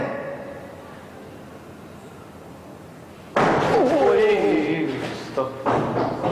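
Door slamming shut with a sudden heavy thud, followed by continuous rumbling noise and a second knock, loud and close.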